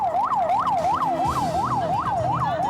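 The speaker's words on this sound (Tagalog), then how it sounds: "Sabay-sabay sa buong bansa na umalingaw-ngaw ang tunog na ito ng mga hudyat pangkaligtasan sa mga" A school safety alarm siren wails during a nationwide earthquake drill, rising and falling in steady, rapid cycles, loud and continuous with no talk.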